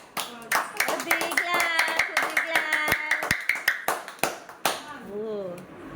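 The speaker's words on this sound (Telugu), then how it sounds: "క్లాప్స్ కొట్టాలి" A group claps in quick, uneven bursts while voices chatter and cheer over the top, the claps sharp and close.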